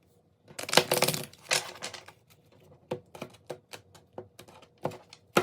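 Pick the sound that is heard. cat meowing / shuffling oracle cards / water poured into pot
shuffling oracle cards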